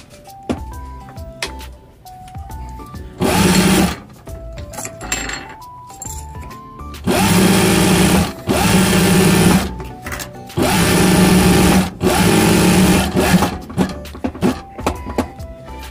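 A piping sewing machine stitches fabric in several loud, close bursts of rapid whirring, broken by pauses filled with scattered clicks and faint musical tones from a nearby source.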